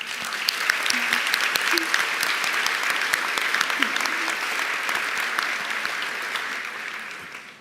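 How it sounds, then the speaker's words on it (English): A graduation-ceremony crowd at the 2018 Cape Henry Collegiate graduation gives sustained applause, a thick wash of many hands clapping with sharp individual claps standing out, tapering off near the end. "Let's give them a round of applause."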